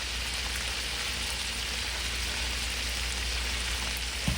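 Sausage and other meats fry in a pan for homemade fried rice, giving a steady, even sizzle like light rain that holds at moderate volume throughout, with no talking.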